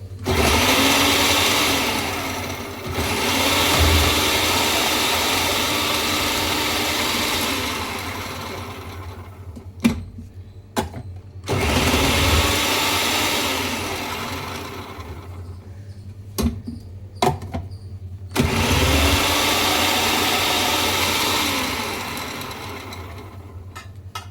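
An Inalsa food processor chops in three long, steady whirring motor runs, each several seconds long and fairly loud, separated by brief pauses with a few sharp clicks from the lid or bowl.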